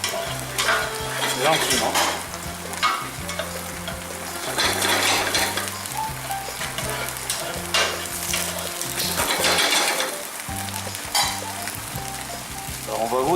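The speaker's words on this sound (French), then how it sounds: "On va faire revenir nos cèpes" Porcini mushrooms (cèpes) sizzle steadily in a hot pan for a risotto, with repeated scrapes and clinks of a utensil stirring them and brief bursts of louder crackle; a voice speaks briefly.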